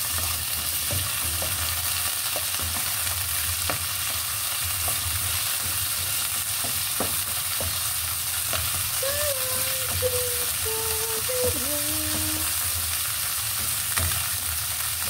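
Leftover pork frying and stirred in a pan as the base for sautéed string beans, a steady broadband sizzle with a few brief tonal squeaks near the end, no talking.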